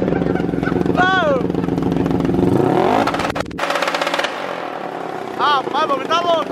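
A two-cylinder Riva 500R motorcycle fitted with a programmable CDI ignition revs hard up close, its engine note climbing and dropping between bursts, with people talking over and around it.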